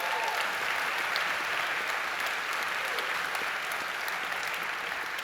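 Steady, sustained audience applause fills a high school spring concert hall, an even wash of many hands clapping at moderate loudness throughout with no voices standing out.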